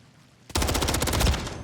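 Automatic gunfire in Call of Duty Modern Warfare 3 bursts in suddenly after a quiet moment and continues as a fast, loud, evenly spaced stream of shots.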